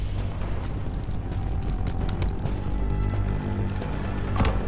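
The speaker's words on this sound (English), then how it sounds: "Got mortar fire!" Mortar fire and explosions rumble through a Call of Duty: Black Ops 6 battle near an airport terminal, with dense low booms and a sharper blast near the end, continuous and loud.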